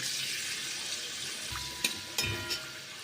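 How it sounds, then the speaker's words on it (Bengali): Pointed gourd (potol) fried reddish in white oil keeps up a steady close sizzle, broken late by two or three sharp metallic clinks and scrapes as the pieces are stirred and lifted out. "লাল লাল করে ভেজে তুলে নেব।"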